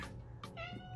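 A house cat meows for attention in short repeated cries, close and fairly faint, with a rising drawn-out meow at the end; no talking is heard.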